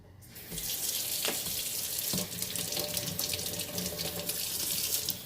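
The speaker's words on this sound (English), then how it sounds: "you just fill it up with a little bit of water" Tap water running steadily into a kitchen sink to wash papaya seeds, a close, continuous splashing rush that starts abruptly and holds at an even level throughout, with no talking.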